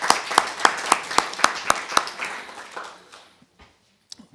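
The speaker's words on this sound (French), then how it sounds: "On peut l'applaudir" A municipal council meeting gives a short burst of applause: a small group claps in a steady, evenly spaced rhythm, the claps slowing and fading out, then one or two faint late claps.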